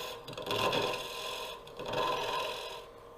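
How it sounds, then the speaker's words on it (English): Bowl gouge taking a push cut on a wooden bowl spinning on a lathe, throwing big shavings: a close, steady rasping hiss in two surges, with no talk. "I'm making shavings and not sawdust."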